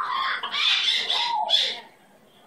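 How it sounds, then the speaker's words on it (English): A pet bird gives a few loud, close squawking calls in quick succession, shrill rising cries that stop abruptly, leaving near silence. "Who loves that pretty bird?"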